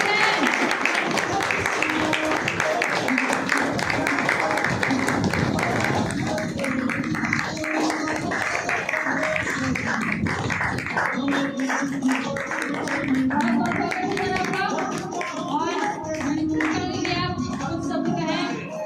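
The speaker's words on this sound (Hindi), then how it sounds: "होनी चाहिए जोरदार तालियां" An audience at an Ayurvedic medicine talk in India claps loudly to welcome a speaker. Dense applause fills the first few seconds, then gives way to a voice with lighter clapping beneath it.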